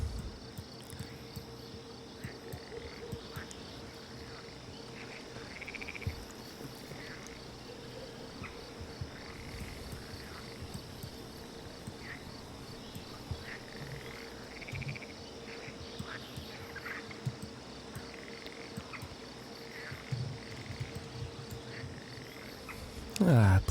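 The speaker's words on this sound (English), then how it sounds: "pleasant sounds of spring in the pond, croaking frogs, crickets" A spring pond in the game Manor Lords with frogs croaking and crickets chirping, a soft, steady ambient chorus of repeated croaks and insect trills running continuously in the background.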